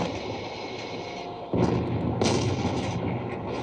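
A loud tank cannon blast in the video game World of Tanks booms over a constant rumbling engine drone, followed by a second heavy shot a moment later.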